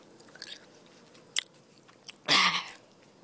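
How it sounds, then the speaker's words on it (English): Gum being chewed close up, with faint wet clicks and a louder crunchy bite near the end, no talking. "But chewing my gum is annoying"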